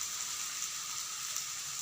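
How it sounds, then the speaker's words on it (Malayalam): Masala for a broiler chicken biriyani sautéing with salt in a pan, a steady close hiss and sizzle that runs evenly throughout without pause. "ഉപ്പിട്ടിട്ട് നന്നായിട്ട് വഴറ്റുക"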